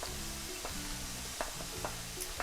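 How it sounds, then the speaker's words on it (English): Vegetables sizzle steadily in a pan as celery joins softening carrots, onions and garlic for a Bolognese base, a continuous low frying hiss with a few soft clicks and taps, heard alone. "we're gonna add our celery"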